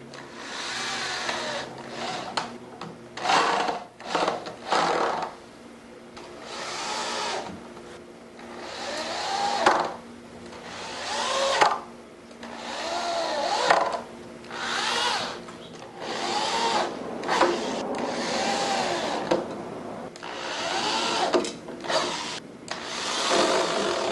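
A power drill drives coarse threaded 1.25-inch drywall screws into a hanging bucket planter, its motor whirring in repeated short bursts that rise and stop, fairly close, with no talking.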